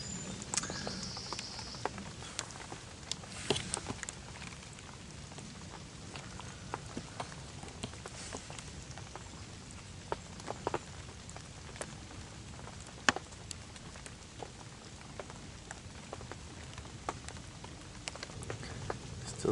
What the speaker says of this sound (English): Rain's just come in now on the Tarn.